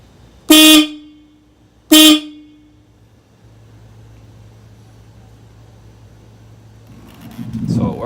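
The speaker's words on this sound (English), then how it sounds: "testing the Hella Supertones" Hella Supertone horns on a 2018 Honda Grom blare in two short loud blasts a little over a second apart, close by, followed by a low idle hum and some handling noise.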